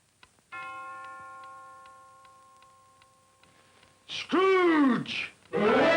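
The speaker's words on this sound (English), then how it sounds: "Scrooge had no occasion to be told that the bell was again upon the stroke of one" A clock bell in a 1949 radio drama of A Christmas Carol strikes once: one resonant chime rings out and slowly fades over soft, steady ticking. Someone narrator then begins speaking clearly up close.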